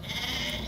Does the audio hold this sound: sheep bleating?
yes